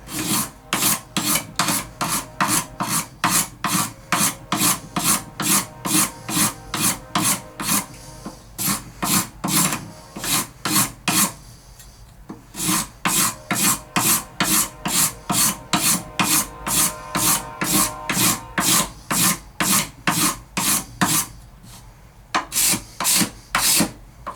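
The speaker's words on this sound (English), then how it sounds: "Just card scraper." A card scraper scrapes a wooden guitar headstock in fast, regular rasping strokes, loud and close, in two long runs split by a short pause and ending with a few more strokes.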